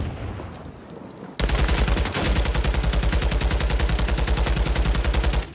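Sustained automatic gunfire in Call of Duty Warzone from a zero-recoil weapon class: after a quieter ambient lead-in, a loud, rapid, evenly spaced stream of shots runs continuously to the end.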